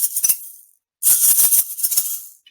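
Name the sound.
egg shakers being shaken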